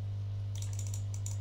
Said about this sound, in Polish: Bardzo ładny jest odgłos klikania, polecam.